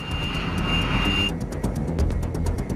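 An A-10 Warthog military jet in flight gives a steady, loud, close engine roar with a high thin whine that cuts out partway through, while faint regular ticks pulse underneath; no voices are present.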